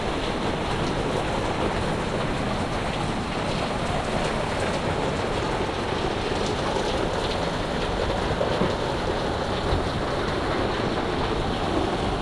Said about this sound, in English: Yeah, it's really raining.